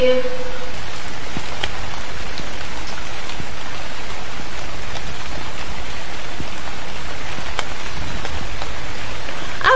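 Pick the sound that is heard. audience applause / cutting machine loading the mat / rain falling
rain falling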